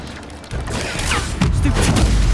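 Incendio fire spell cast in the video game Hogwarts Legacy, a short whooshing burst that swells into a rumbling, crackling roar, with impacts rising over about two seconds.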